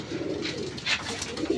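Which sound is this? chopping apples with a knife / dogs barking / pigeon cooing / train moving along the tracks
pigeon cooing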